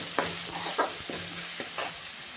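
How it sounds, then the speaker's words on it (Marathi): Home-made spice masala sizzling in hot oil in a pan, stirred with a few distinct scraping strokes over a steady close fry, no talking. "मसाले सगळे आपल्याला परतून घ्यायचे"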